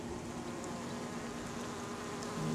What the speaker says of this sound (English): A new swarm that just moved in.